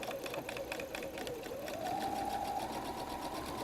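A sewing machine runs steadily, stitching a straight seam on a messenger bag at 2.5 stitch length, a close, continuous whirring hum with a rapid needle rhythm that rises slightly in pitch partway through.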